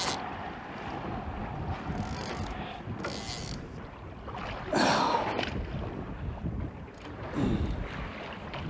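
A boat's outboard motor runs close by while a hooked chinook salmon is played at the surface, a steady engine drone with wind buffeting the microphone and water sloshing, rising briefly louder midway.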